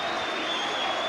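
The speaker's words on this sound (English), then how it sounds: "Paul Nixon is acknowledging the cheers of the crowd" Brief burst of crowd cheering and applause at a 1990 Leeds versus Rochdale Hornets rugby league match, a continuous distant roar with a faint voice over it.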